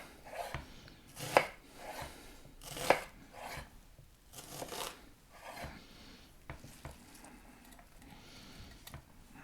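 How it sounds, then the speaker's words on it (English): A knife chops food on a cutting board while chicken noodle soup is being made: a few loud, sharp strikes with softer cuts and light scraping between them, close by, with no talking. "And then I'll go ahead and cut it."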